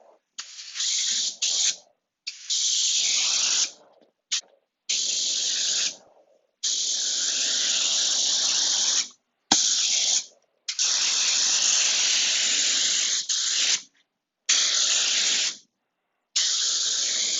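Bursts of EkoFill coating sprayed over a woven surface to even out greenish areas, a loud close hiss in about nine on-off blasts of one to three seconds each with brief silences between.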